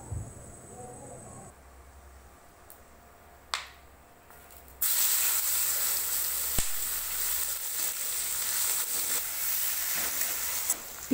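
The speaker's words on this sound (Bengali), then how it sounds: "এবার কেটে রাখা পেঁয়াজগুলো দিয়ে দেব।" Chopped onions hit hot oil tempered with bay leaf, cumin, cinnamon, cloves and peppercorns, setting off a sudden loud, steady sizzle and hiss that holds for several seconds.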